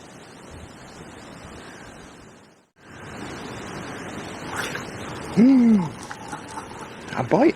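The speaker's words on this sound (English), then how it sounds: "this wind. It wasn't supposed to be this windy." Wind blowing by the River Avon on an autumn day, a steady broadband rush with a brief lull partway through, while a person speaks briefly near the end.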